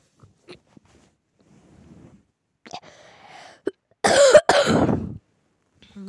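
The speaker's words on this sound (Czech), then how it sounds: "mám ten kašel." A person coughs a couple of times outdoors, two loud harsh bursts close by, after quieter scattered rustles and small noises.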